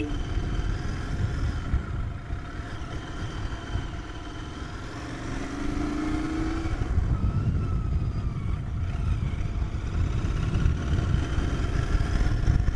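A Royal Enfield Continental GT 650 motorcycle rides along a village road, its engine giving a steady, continuous drone with a rising whine midway as it runs, fairly close and alone without talk.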